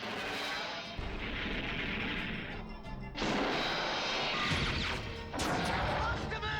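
A heat-seeking missile explodes in a Transformers Generation 1 cartoon, loud crashing blasts and roaring impacts in several sustained bursts with a brief lull between them, over dense battle noise.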